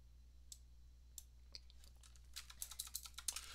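Computer keyboard typing a command, a few isolated keystrokes at first, then a quick run of clicks toward the end, faint and close over a low background hum.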